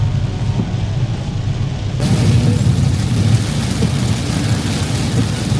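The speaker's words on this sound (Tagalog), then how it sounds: "Sobrang lakas ng ulan guys" Heavy rain pours down on a vehicle during a long road trip, a dense steady roar that swells louder partway through and stays constant, close and enveloping with no voices.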